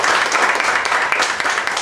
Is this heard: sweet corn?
no